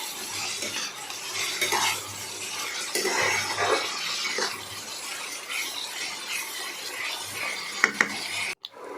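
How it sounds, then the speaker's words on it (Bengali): Beans and carrots fry with a little salt in a pan while a utensil stirs and scrapes them back and forth, a continuous soft sizzle with irregular clinks and scraping strokes up close. "অল্প পরিমাণে নুন দিয়ে ভালো করে ভেজে নিলাম এদিক ওদিক করে"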